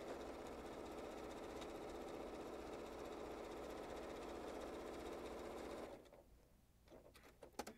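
A sewing machine stitches quilting lines across a fabric placemat in a steady, fast mechanical whir for about six seconds, then stops, leaving a few soft handling clicks.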